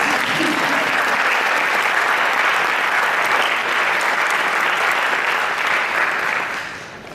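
An audience at an orchestra concert applauds loudly and steadily, a dense, sustained wash of many hands clapping that holds for several seconds before starting to fade at the end.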